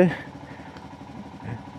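A motorcycle engine idles with a steady low throbbing rumble on a cold, rainy road trip in Darjeeling, with a brief voice at the very start.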